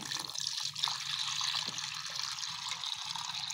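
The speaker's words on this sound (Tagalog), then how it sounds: "Tapos lagyan natin ng tubig poso mga kalapatid." Well water pours and trickles steadily into a pigeon drinker, a continuous splashing stream close by with no talking.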